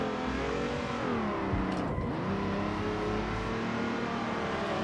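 A car in the Assetto Corsa driving game drifts through a turn in an attempted Scandi flick, its engine revving loud and close in rising and falling sweeps, with a sharp dip and recovery midway.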